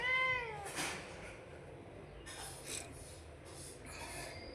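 A cat meows clearly at the start, a drawn-out cry, followed by quieter rustling and faint background noise.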